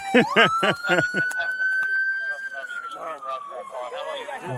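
A police car siren wails at a steady rising-and-falling pitch near a bodycam stop after a high-speed chase, loud and continuous beneath overlapping talk.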